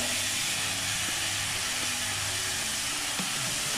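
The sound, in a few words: sautéing chopped onion with green chillies in pan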